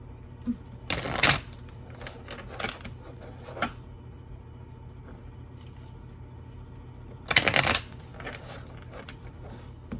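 Two bursts of tarot card shuffling, close and crisp, separated by a few soft taps and rustles in a quiet room.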